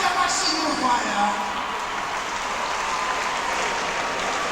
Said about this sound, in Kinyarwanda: Tufanye amashyi y'urufaya